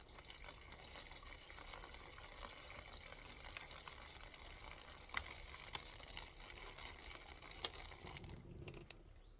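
Water pours steadily into a cellophane-wrapped boxed flower bouquet, a close, continuous gurgling fill that runs for several seconds and then stops abruptly near the end, with no talking.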